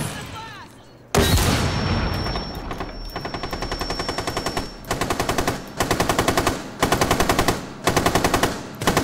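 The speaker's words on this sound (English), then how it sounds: "Suppressing fire!" Machine gun fire in Rainbow Six Siege, loud and close, with a long sustained burst followed by several rapid bursts.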